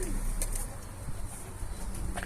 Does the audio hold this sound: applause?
no